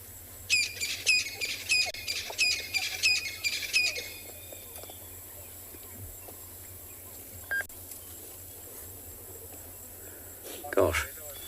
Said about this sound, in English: the glorious fanfare of birds all around us. Coqui francolins and